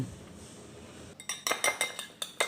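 Two eggs being whisked with sardines in a bowl: after a quiet second, a run of sharp utensil clinks against the dish, fairly close and in an uneven rhythm.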